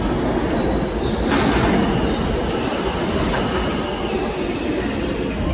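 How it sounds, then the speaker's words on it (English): A New York subway train bound for Jamaica Station pulls into the platform, a loud continuous rumble of wheels and carriages with faint squeals and clatter throughout. "our subway to Jamaica Station has just arrived"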